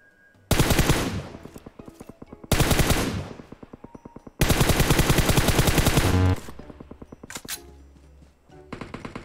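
A teammate's gun firing in PUBG: several long, loud bursts of rapid automatic fire, each a dense run of sharp shots with short pauses between, followed by a few scattered single shots near the end.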